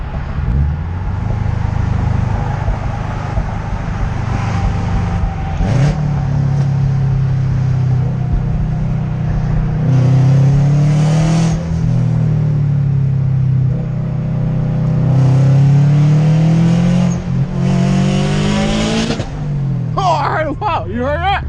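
A loud turbocharged Subaru WRX STI engine at 380 wheel horsepower revs hard and rises in pitch through repeated acceleration pulls at night, droning steadily and close up, with people talking over it.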